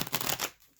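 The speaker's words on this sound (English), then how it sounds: "Just gonna have one more shuffle here." Tarot cards riffle through a quick shuffle, a soft, close burst of papery flutter lasting under a second before falling quiet.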